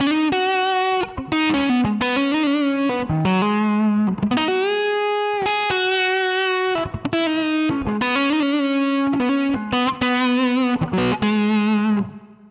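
Electric guitar played through a Line 6 Helix with a half-on wah acting as a filter, giving a distorted, chorused melodic line of sustained notes and bends that stays loud and continuous with short gaps between phrases.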